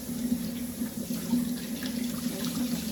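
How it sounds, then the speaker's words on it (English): Pine needles are rinsed in clear water in a sink after glycerin treatment for basket making: a steady, close stream of running tap water with light splashing throughout. "I'm going to rinse them in clear water"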